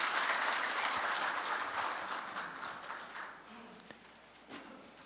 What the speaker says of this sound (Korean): 여러분 박수로 맞이해 주시기 바랍니다.